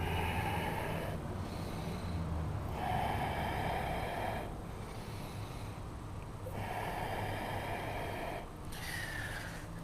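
Slow, deep yoga breaths repeat steadily through a strong flow class, each long inhale and exhale rising and falling in a near, airy rhythm over a soft steady background.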